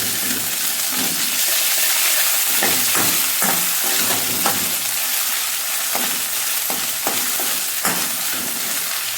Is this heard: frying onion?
yes